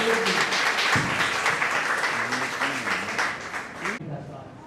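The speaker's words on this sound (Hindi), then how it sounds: "उनके लिए भी जोर से तालियां बजाएंगी।" Wedding guests clapping for the bride and groom, a steady patter of applause across the room with a voice speaking over it, fading out near the end.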